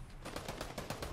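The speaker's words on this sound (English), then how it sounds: "I got the kid shooting you" Rapid bursts of gunfire from a Fortnite battle, several sharp shots in an uneven rhythm at moderate loudness, with no talking.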